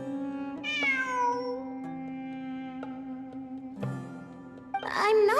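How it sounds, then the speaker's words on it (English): A cat meows in the video game Genshin Impact, with two or three clear, close meows that rise and fall over a low steady hum, and a final louder meow at the end. "I'm not hearing things. It really is a cat."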